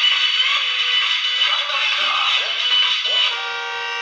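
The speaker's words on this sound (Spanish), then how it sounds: "y su música." A toy electric ride-on motorcycle, Machuka model 969-17, plays a tinny electronic melody through its small built-in speaker. The tones are bright and close, and they run steadily for about four seconds with no talk.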